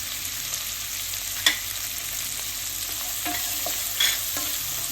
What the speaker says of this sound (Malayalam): ഇത് 2 മിനിറ്റ് ഇങ്ങനെ ഇളക്കിക്കൊണ്ടിരിക്കും